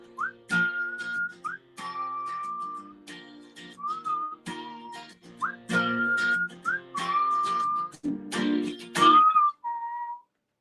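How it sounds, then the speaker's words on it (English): Repeated melodic whistling with short rising and falling tones and sustained notes, played over a steady background of music or chatter, close and fairly loud. "Some good whistling."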